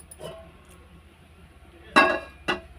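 A metal pan set down on a stove burner while cooking a ridge gourd curry, giving two sharp clanks close by, separated by a short pause, with a faint earlier clink and quiet room hum between.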